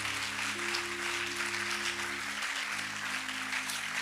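A church congregation applauds for the Lord in a steady, sustained wash of clapping from many hands, with soft organ or keyboard chords held underneath and no talking.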